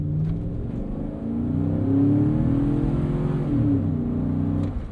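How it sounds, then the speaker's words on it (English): A 2013 Chevrolet Avalanche pickup with a 5.3L V8, in tow haul mode, pulls away from a stop with a steady, rising low engine drone that swells and holds through the run, close and loud, with no talking. "I say we get it off the line here up to 40 miles an hour. Tow haul mode."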